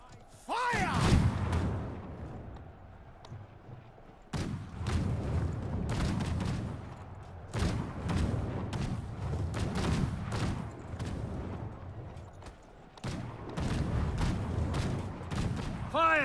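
Artillery bombardment in the game Conqueror's Blade during a siege defense, heavy booming volleys in several bursts separated by short lulls, with rumbling impacts and brief game voice lines between them.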